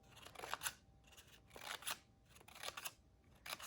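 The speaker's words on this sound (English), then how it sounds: "I'm just gonna cut in to there." Scissors snip through paper to cut feathers for a paper bird craft, in several short, crisp bursts of cutting with brief pauses between, close and fairly quiet.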